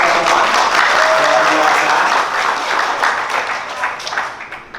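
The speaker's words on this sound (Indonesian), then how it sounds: "Boleh tepuk tangan dulu buat teman-teman." Audience applause at a university campus event on earthquake and tsunami preparedness, a lively crowd clapping strongly for several seconds, then gradually thinning out.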